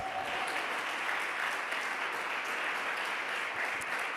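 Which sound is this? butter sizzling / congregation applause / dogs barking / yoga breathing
congregation applause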